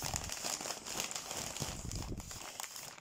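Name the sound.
unwrapping double-wrapped package during unboxing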